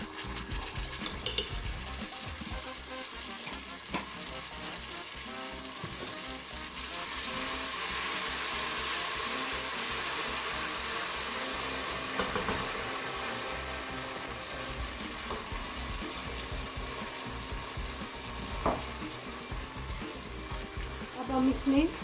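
Browned onion with garlic ginger paste fries in a pan for a paye recipe, a steady loud sizzle throughout with occasional stirring scrapes and clinks.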